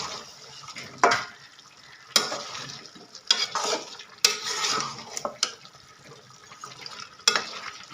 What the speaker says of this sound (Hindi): इसको तकरीबन 7 से 8 मिनट तक इसमें भूनेंगे।